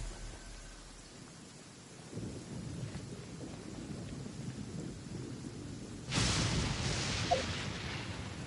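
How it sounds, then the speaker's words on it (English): Thunder rolls through a rainstorm in the video game Genshin Impact, a steady rain hiss building into a louder, nearby rumbling crack partway through, with no voices. "The thunder drowns out all other"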